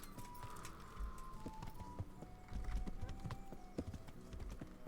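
Horse hooves clip-clop steadily on the ground as a horse named Pebbles is ridden in Kingdom Come: Deliverance, an even, close rhythm over a faint game ambience.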